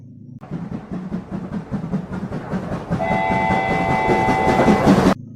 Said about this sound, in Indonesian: Wow, ini kereta Thomas